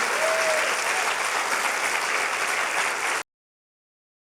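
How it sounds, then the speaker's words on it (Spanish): A church congregation breaks into loud, sustained applause, a dense wash of many hands clapping together for about three seconds before it cuts off abruptly into silence. "dale un fuerte aplauso a Él"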